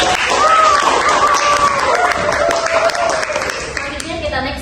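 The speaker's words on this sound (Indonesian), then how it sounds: "Boleh tepuk tangan lagi." Audience clapping again at a democracy-themed podcast session, a lively patter of applause running beneath a person talking and a tonal sweep, loud and close, slowly thinning toward the end.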